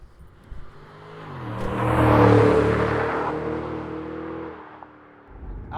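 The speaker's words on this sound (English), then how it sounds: "So I'm driving around finally now." A 2007 Ford Mustang GT/CS with a Borla or Pypes aftermarket exhaust revs up and pulls past, its deep V8 drone rising to a loud peak, holding, then fading away.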